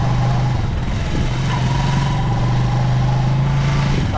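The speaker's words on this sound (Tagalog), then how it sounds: "Pagka nahihirapan yung makina, bawas." An engine runs steadily and close during a tune-up, holding a rough, laboring drone at an even level with no talk over it.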